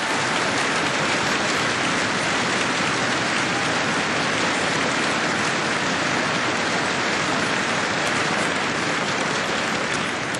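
A convention crowd at a Liberal Party event applauds Michael Ignatieff with loud, sustained clapping that stays dense and even throughout.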